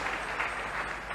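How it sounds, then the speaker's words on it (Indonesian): A brief burst of audience clapping during a Buddhist Dhamma talk, a soft, steady patter of many hands heard from a distance. "tepuk tangan untuk beliau."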